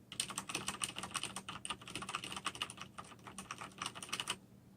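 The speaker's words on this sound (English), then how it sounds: "is a Corsair K70 RGB. And this is a brown switch. And it sounds a little bit like this." Rapid, steady typing on a Corsair K70 RGB mechanical keyboard with brown switches, soft tactile clacks in quick bursts, close up with no talking.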